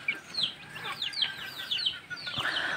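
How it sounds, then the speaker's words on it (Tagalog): A flock of broiler chickens clucks and peeps in a busy overlapping chorus, close and moderately loud, with no talking. "Alagang chicken broiler mga idol."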